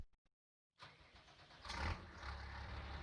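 A Cummins diesel engine on a Kinzie tractor cranks after a brief silence, catches and settles into a rough, loud idle with a rising rumble, close by and alone.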